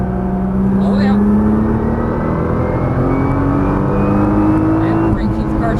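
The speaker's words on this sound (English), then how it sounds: "squeeze that throttle all the way out" A Nissan GT-R engine drones loudly and continuously at full throttle on a racetrack, its pitch climbing steadily as it accelerates.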